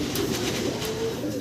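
Black short-face pigeons, a pair kept at a pigeon house, coo softly and steadily with a low, throaty murmur that continues throughout, close by, with no talk over it.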